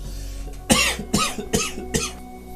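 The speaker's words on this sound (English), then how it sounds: "I've got to cough for a second, guys." Four sharp coughs in a row, evenly spaced and fairly close, with a low background hum between them.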